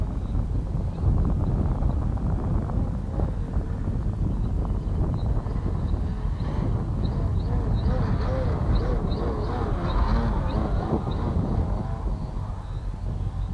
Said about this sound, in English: This is with the wind and a bit of crosswind